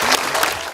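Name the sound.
audience applause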